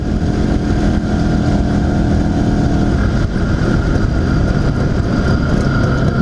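An IZh Planeta 5 motorcycle engine running while riding, after a crankshaft seal replacement, a loud, close, steady low throb held at relaxed revs near idle with wind rush.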